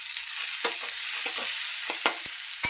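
Tomatoes and chickpeas sizzle in hot oil in a pan, with a steady fry hiss and a few scraping strokes from a stirring utensil close by, and no voices.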